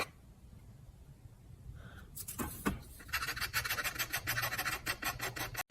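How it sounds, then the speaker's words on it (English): A scraper works over a copper mezzotint plate, making a faint rasping at first, then a close series of quick, gritty scraping strokes. "And then you'll scrape those areas out lighter."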